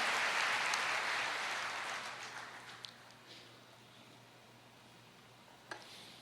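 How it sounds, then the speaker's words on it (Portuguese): A church congregation applauds during a worship service, a loud wash of clapping at the start that gradually thins and fades into quieter room tone, with a couple of brief sharp knocks later on. "Você pode começar aplaudindo ao Senhor."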